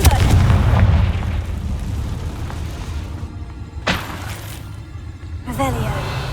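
Confringo fire spell explosions in Hogwarts Legacy, with booming blasts at the start and again a few seconds later, mixed with game effects and a spoken spell incantation.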